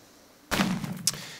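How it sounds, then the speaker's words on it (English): A TNT blast in the Minecraft FTB modpack: one sudden booming burst that sets off a brief rumbling tail with a sharp crackle near its end, short and moderately loud against near silence. "you're going to want to make a little bit of an explosion here"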